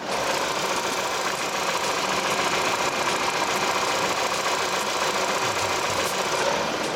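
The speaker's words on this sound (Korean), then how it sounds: "마지막으로 엔진 소리 한번 들려 드릴게요" An LPG-fuelled Renault Samsung New SM5 sedan engine idles steadily and close by, a smooth continuous hum with a faint rhythmic ticking and no voices.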